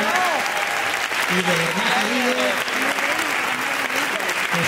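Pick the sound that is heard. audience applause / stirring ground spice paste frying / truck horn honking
audience applause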